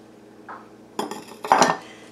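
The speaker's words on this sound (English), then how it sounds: "we're going to add our 1 cup of sugar and our 1 cup of brown sugar" Two measures of sugar, one white and one brown, drop into a mixing bowl for pecan bars, giving a few soft pours and light scrapes against the bowl in quick succession, heard close with no talking.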